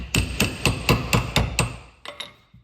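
A hammer taps metal on a damaged Škoda car seven times in a steady rhythm, then two lighter, quicker taps follow, close and clear with ringing overtones.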